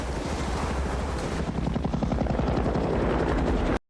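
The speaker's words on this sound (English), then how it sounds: "they hear a helicopter" A helicopter's rotor thuds in a loud, rapid rhythmic chop close by, then cuts off abruptly at the end.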